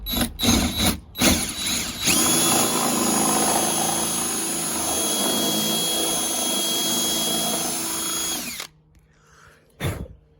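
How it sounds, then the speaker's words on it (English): A power drill spins a drill bit into material during a BMW quick release steering wheel install, giving a loud, steady high-pitched whine that runs continuously for about six seconds after a few short bursts, then stops abruptly. "So we're gonna full send the actual drill bit now"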